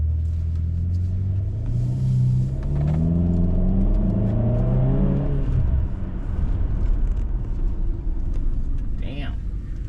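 A 2010 BMW X6M accelerates and drives off, its engine rising in a swelling rumble over several seconds before fading, heard from inside the car with people talking.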